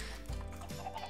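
Chickens clucking in the video game Minecraft, a few short clucks over a low hum of background sound.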